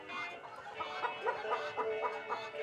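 Hens clucking on a farm, a dense, steady flock chorus of overlapping clucks and squawks with no break, fairly loud and close, with no voices.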